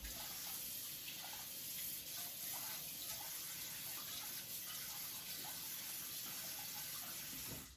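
Water runs from a tap as a knife and waterstone are rinsed off, a steady faint gush of splashing with no pauses and no talk.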